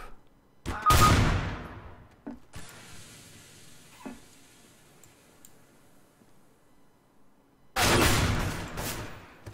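Two heavy bursts of gunfire in the video game Overwatch, several seconds apart, loud and sharp, with quieter clicks and faint mechanical noise in between.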